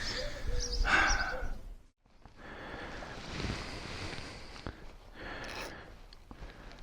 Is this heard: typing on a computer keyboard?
no